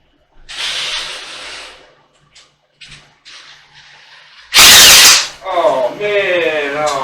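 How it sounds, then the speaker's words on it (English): A power drill with a large screw bit unscrews a screw in a woodworking shop, giving short whirring bursts and one loud, harsh burst of noise, with someone talking toward the end. "we're going to take a large screw bit and unscrew that."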